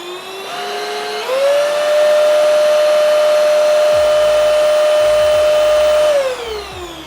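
Prettycare W200 cordless stick vacuum switched to its high setting: a loud, close motor whine ramps up in pitch, holds steady with airy rushing, then winds down, with a few faint handling knocks near the end.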